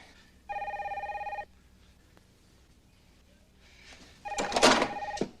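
A telephone bell rings in two distinct bursts, the first a steady electronic trill about a second long, the second louder and mixed with a brief clatter or rustle, in an otherwise quiet room.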